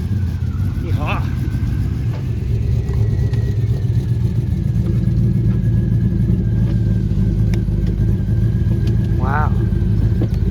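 A 1982 GMC squarebody truck fitted with an LS 5.3 V8 cruises along, its engine giving a steady, loud drone with road noise throughout, while people talk inside the cab.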